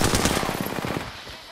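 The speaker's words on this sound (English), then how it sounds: "Dude, this RE45 is just not getting it done." RE45 pistol fire in the Apex Legends video game: a rapid burst of many close, loud shots in quick succession, fading out toward the end.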